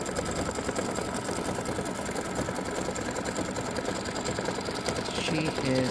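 An embroidery machine stitches a flamingo design for a quilt block, a fast, steady mechanical whir and tapping running continuously close by.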